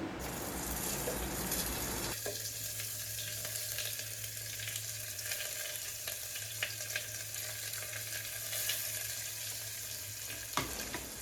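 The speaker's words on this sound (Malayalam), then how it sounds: "ആ ഒനിയൻ ഒന്ന് ലൈറ്റ് ബ്രൗൺ ആവുന്നിടം വരെ നമുക്കൊന്ന് വഴറ്റാം." Onions sizzle as they sauté in hot masala in a pressure cooker, a steady close frying hiss with occasional stirring scrapes and a faint constant hum underneath.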